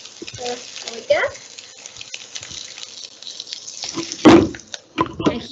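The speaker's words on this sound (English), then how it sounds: "it's a very hot oil. I will just pour it over the spring onion and garlic" Very hot oil poured over spring onion and garlic in a Chinese home kitchen crackles in bursts. Short pops come early, then a louder sizzling surge near the end, with quiet gaps between them and a person talking faintly underneath.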